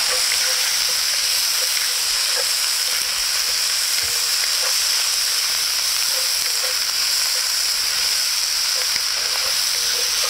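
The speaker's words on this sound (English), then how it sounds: "That andouille and that bacon get nice and crispy in there." Andouille sausage and bacon fry in a pan for red beans and rice, giving a loud, dense, steady sizzle with faint stirring taps, close up and uninterrupted, no talking.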